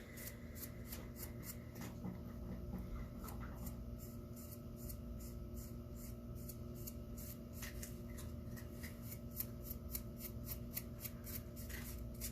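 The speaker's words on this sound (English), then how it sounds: "If you hear crunching in the background, that is my cat eating." Faint, rapid crunching clicks repeat steadily in the background as a cat chews dry kibble, over a low hum.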